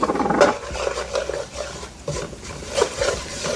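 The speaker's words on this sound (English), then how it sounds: "Gonna mix that around." A spoon scrapes and stirs honey and black pepper around a pan, giving soft, uneven clinks and scuffs up close with a faint sizzle underneath.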